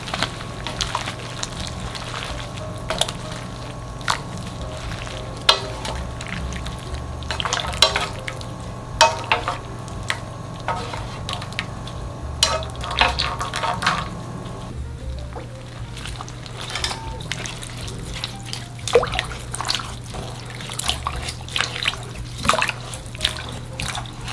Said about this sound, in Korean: 찬물에 한번 헹궈서 열기를 식혀주겠습니다